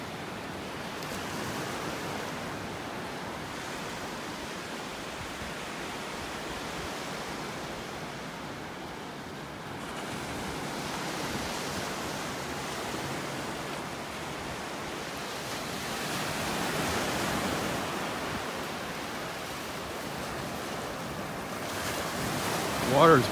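Ocean surf on a beach in North Naples, Florida rolls in as a continuous broadband wash with gentle swells, mixed with wind buffeting the microphone over a long stretch.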